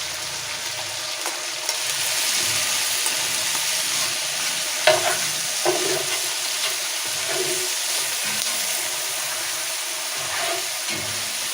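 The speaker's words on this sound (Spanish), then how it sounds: "A partir de este momento comenzamos la cocción de la cebolla." Onion cooks in a very hot pot over an open flame for an olla podrida, a continuous soft sizzle with occasional stirring scrapes and light knocks close by.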